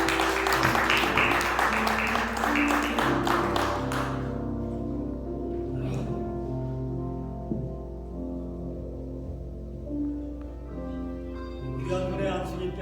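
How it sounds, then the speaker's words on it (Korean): A congregation applauds at a Presbyterian pastoral ordination service in a New York church. Dense clapping fills the first few seconds over sustained musical tones, then dies away to a few scattered claps while the music continues. "박수로 한번 함께 하겠습니다."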